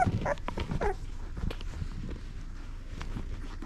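Golden retriever puppies about thirteen days old make soft, brief whimpers and yips near the start, followed by faint shuffling and rustling at close range with no talking.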